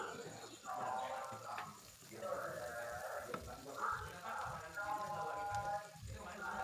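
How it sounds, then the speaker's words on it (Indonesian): Young kecombrang (torch ginger) flowers and petai beans sauté in a pan for sambal, a soft steady sizzle running under a person talking. "bunga kecombrang yang muda sudah masuk, tumis sebentar."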